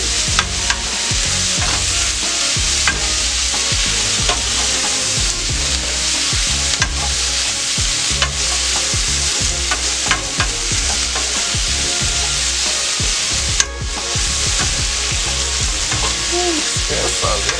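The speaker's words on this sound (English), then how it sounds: "keep stirring them" Food stirred in a hot pan makes a loud, sustained sizzle broken by repeated scraping stir strokes, steady from start to finish with no voices.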